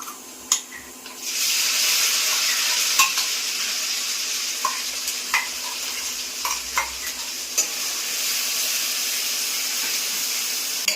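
Whole cumin seeds, curry leaves and ginger-chili paste hit hot oil and burst into a loud, sustained sizzle, with a few sharp spoon clicks against the pan at the start and stirring scrapes throughout.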